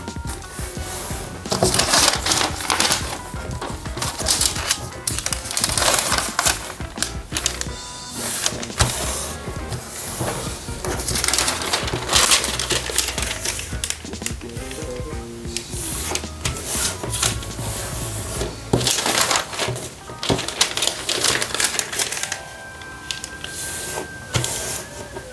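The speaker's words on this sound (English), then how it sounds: "And then now we can fold it into 4 equal" A single uncut sheet of paper is folded into an origami snowboarder, giving steady crinkling, creasing and rustling close up, with sharper crackles as the folds are pressed, running almost continuously with no talk.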